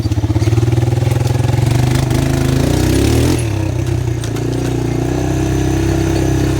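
A small 300 motorcycle engine runs steadily close by, a loud throbbing hum that dips briefly midway and then settles back to an even, continuous drone.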